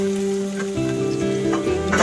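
Cashews, garlic, ginger and dried red chillies fry in hot oil for a reshmi chicken masala, giving a continuous close crackling sizzle beneath a faint steady tonal hum.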